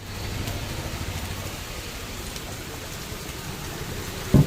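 Heavy monsoon rain falls during a motorbike road trip on a Yamaha R15M from Cuttack to Jharsuguda, a steady dense hiss that fills the whole stretch, ending with a brief thump near the close.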